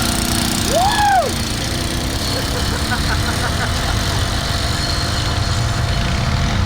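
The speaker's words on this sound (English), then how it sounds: "Motor's cranking, and let's go racing" A big-horsepower mega truck engine runs at a mud race, a loud, close, steady idling roar throughout, with a short whistle near the start and voices talking over it.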